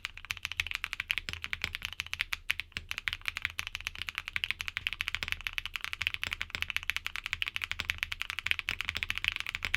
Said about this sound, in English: Today we'll be using thick PBD keycaps for our sound test to really showcase each switch's character.